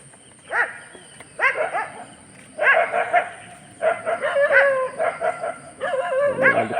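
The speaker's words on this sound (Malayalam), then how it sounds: "അടുത്തെത്തി പട്ടികൾ ഇനി അടുത്തെത്തിയുണ്ടോ വലിയ ശല്യം തന്നെയാണ് ഈ പട്ടികളെ കൊണ്ട്" Several dogs bark and yelp close by along a road, in loud repeated bursts with whining, yipping calls between them.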